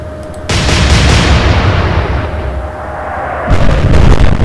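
British warship guns fire in the naval battle game Atlantic Fleet, set in the Battle of the Atlantic. Two heavy booming salvos come a few seconds apart, each followed by a rolling rumble.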